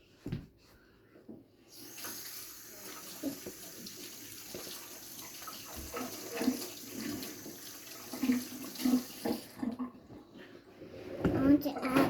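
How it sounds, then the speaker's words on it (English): Water runs from a tap into a sink while someone washes their hands: a steady rushing splash that starts after a quiet moment and continues for several seconds, with people talking over it. "I'll go wash my hands."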